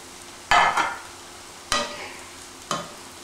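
Steamed dino kale and carrots hit a hot pan in three loud sizzling bursts that fade between stirs, each flaring and then settling to a quiet hiss.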